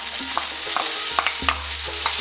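Onion frying in hot oil and being stirred in a pan, heard as a steady sizzle broken by a few scraping stirs, close and fairly loud, with no one talking.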